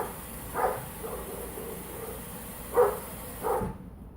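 Hungry dogs bark from somewhere in the back before feeding, three short separate barks, fairly distant and muffled over a quiet background.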